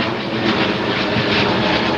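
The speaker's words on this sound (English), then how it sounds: "they need all of the runway to take off because they're so heavy" A heavy, fully loaded four-engine airliner roars down a Heathrow runway on a long-haul takeoff, a loud, continuous broadband engine rush that holds steady throughout.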